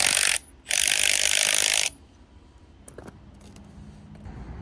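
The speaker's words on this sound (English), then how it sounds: "Compress your new springs and put it on the strut." A ratchet spring compressor squeezes new Eibach lowering coil springs onto a Toyota GR86 strut, giving two fast loud ratcheting bursts in the first two seconds, then quiet workshop clatter.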